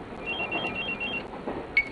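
A cellphone rings in an animated show, a repeating electronic tone pattern of short beeps over faint background noise, with no speech.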